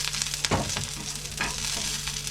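Green chillies sizzling in hot oil in a pan while being stirred, a constant crackling fry with a few sharp scrapes of a spoon against the pan, close and alone.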